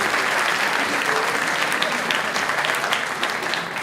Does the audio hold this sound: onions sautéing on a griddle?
no